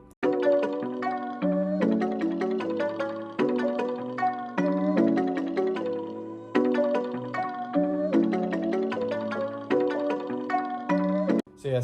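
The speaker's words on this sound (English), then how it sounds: "So I first started with this Palace loop." A Palace sample loop for a beat in FL Studio 20 plays alone: bright, bell-like melodic phrases over sustained low chords, repeating in steady cycles at an even, fairly loud level with no voices.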